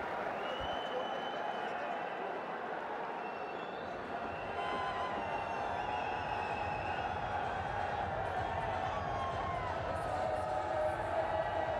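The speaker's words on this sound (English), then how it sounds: "resounding applause from the crowds" Crowd in a cricket stadium during a PSL T20 match (Peshawar Zalmi vs Islamabad United) applauding and cheering, a dense continuous roar of clapping and voices with commentary audible over it.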